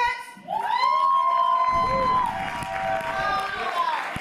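Lively crowd at a tribute event shouting and cheering as a performer is introduced, with whooping voices and sustained noise rising after a brief quiet start and staying loud throughout.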